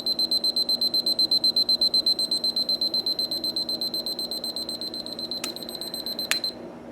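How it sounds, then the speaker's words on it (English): A 1980s Seiko Quartz QEK203F travel pocket alarm clock sounds its alarm, a rapid pulsing electronic beep close by that repeats steadily and fades slightly toward the end. Two brief clicks come near the finish. There is no talking. "And that's how the alarm sounds."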